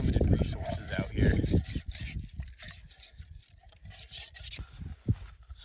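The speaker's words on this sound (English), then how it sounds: "So I put a little more dirt in it, scrubbed it a little more." Dirt used as an abrasive scrubs an item by hand outdoors, giving rough, repeated rubbing and rasping strokes at close range, with someone speaking intermittently over the scrubbing.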